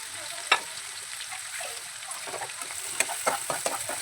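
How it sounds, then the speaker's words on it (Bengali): Chopped garlic frying in hot oil as it is stirred, giving a steady close sizzle with several light scrapes and clicks of a utensil against the pan. "তেলের মধ্যে প্রথমে দিয়ে দিলাম আমি রসুনের কুচি, একটু নেড়ে চেড়ে নিই"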